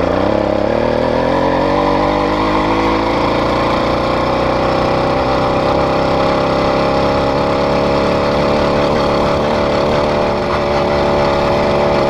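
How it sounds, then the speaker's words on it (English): An 80cc two-stroke motorized bicycle engine catches and keeps running in a field, its loud, close buzz rising in pitch early on and then holding a steady, rattly drone for about twelve seconds with no talking. "Just let the clutch out and it'll start."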